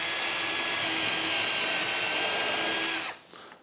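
A power drill bores a screw hole into wood for mounting drawer runners, a loud, steady high-pitched whine that runs for about three seconds and then stops abruptly.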